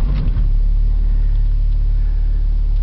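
A Ram truck set up for wood gasification cranks and starts on gasoline, settling into a loud, steady low engine rumble.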